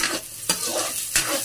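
Onions and garlic sauté in a pan for pinakbet, a bright close sizzle with two quick stirring scrapes.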